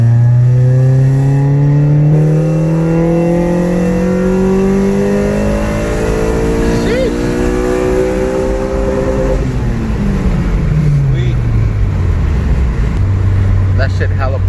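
A tuned car pulls hard in third gear from 3000 RPM, the engine note climbing steadily and loudly for several seconds before dropping off as the throttle is released, close to the listener.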